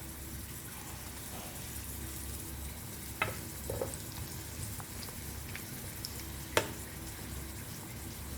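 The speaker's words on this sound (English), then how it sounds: "All you do is just keep like stirring, keep turning to let it brown a little bit" Onions frying for a stew give a soft continuous sizzle in the pan, with a few sharp clicks of the stirring utensil against the pot, quiet and close, no one talking.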